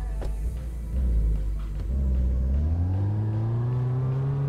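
A car in the video game Big Ambitions starts and pulls away, a low engine rumble rising into a steady revving climb in pitch as it accelerates, loud and continuous throughout.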